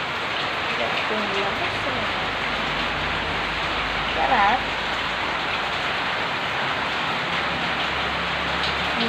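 Steady rain falls throughout, a dense even hiss close by, with a voice speaking briefly over it and a small Shih Tzu puppy nearby.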